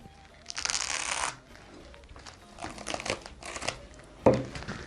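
Stretch plastic wrap film handled and cut while wrapping newspaper-bundled grafting scions, giving bursts of close crinkling and rustling with a sharp snap near the end.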